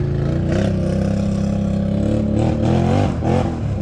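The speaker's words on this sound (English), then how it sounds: "Hey, here comes some bikes." Engines of passing motorbikes rumble and rev close by, a dense, loud drone with rising throttle surges heard near a Can-Am Renegade 1000 XMR ATV.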